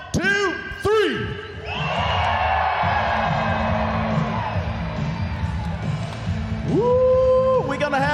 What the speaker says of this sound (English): get one more big, loud scream from the crowd